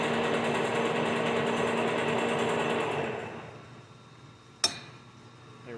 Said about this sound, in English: we have to shut the motor off, reverse it, and then engage the clutch and spin it back out